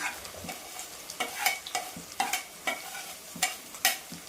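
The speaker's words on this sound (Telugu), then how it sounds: "ఇవన్నీ కాకరకాయతో పాటు కాస్త వేగనిద్దామండి." Bitter gourd and finely chopped onions frying in a pan, with repeated stirring scrapes in an irregular rhythm over a steady close sizzle, no voices.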